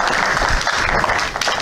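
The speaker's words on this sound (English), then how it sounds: "Give her one applause for her, Pantaji." An audience claps steadily in a dense, even patter of applause at a class held at an ISKCON temple, loud and continuous with no talk over it.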